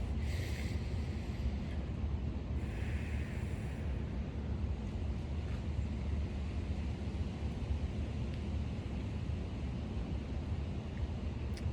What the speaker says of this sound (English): we hear the wind in the trees in the background